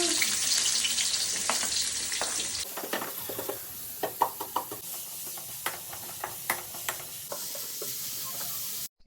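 Onions sautéing in oil in a pan for kothu parotta, a steady close sizzle with a burst of loud hiss at the start, then a run of scraping stirs and clinks over continuous frying noise.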